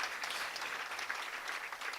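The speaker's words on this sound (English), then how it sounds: "I think they deserve a wonderful round of applause." Warm, steady round of audience applause at an official flag-hoisting ceremony program, a dense, even patter of many hands heard at moderate distance throughout.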